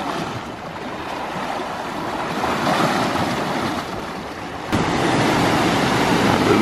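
Rough waves on Lake Superior's North Shore churn in a continuous surging wash, mixed with gusty wind buffeting the microphone and a louder swell toward the end.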